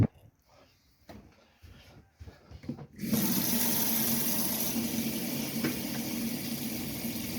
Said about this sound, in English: There we go, hot water coming into the bathroom, fine.